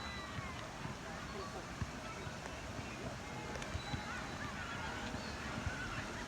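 Ducks on a park pond in Adelaide call faintly now and then over a constant wash of wind and outdoor noise, with distant voices mixed in.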